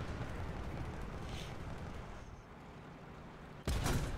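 A tank cannon fires in the War Thunder video game: one loud, sudden blast near the end breaks through a steady rumbling engine and battle background.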